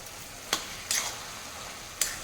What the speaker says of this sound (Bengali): আবারও ভালো করে নাড়িয়ে মিশিয়ে দেব।